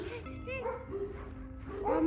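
Dogs bark and yip a few times nearby, mixed with whimpering, while people talk over it.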